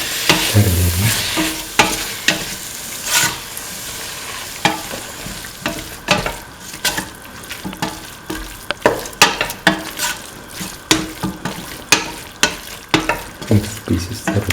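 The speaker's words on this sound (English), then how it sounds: "Mix the pieces thoroughly," Beef, potato and coconut milk rice mixture stirred and tossed in a hot pan, with steady sizzling beneath repeated scraping and clattering strokes of the utensil, close and fairly loud, no voices.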